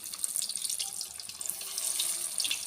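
Chicken koftas dropped into hot ghee, frying with a steady, close, hissing sizzle that stays even throughout with no speech.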